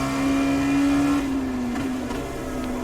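A Dallara P217 LMP2 race car in the iRacing video game downshifts, its loud, close engine whine stepping down in pitch as it slows on the track at Watkins Glen.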